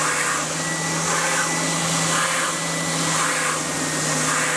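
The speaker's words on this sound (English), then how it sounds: "80 grit drum on the sander." A drum sander fitted with an 80 grit drum grinds mahogany guitar wood with a constant whirring motor drone and a gentle, rhythmic swell of abrasion roughly once a second, close up, with no talking.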